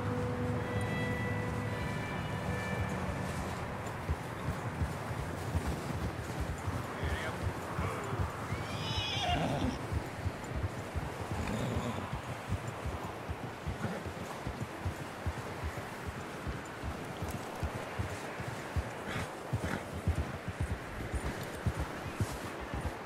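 Horses in the Red Dead Redemption 2 video game clip-clop steadily and snort and whinny as riders move along and hitch them, with a continuous rough outdoor background throughout.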